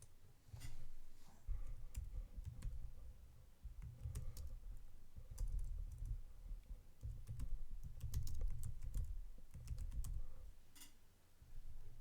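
Fingers type a folder name on a computer keyboard, soft clicking keystrokes in short bursts separated by brief pauses, quiet and close, with no talking.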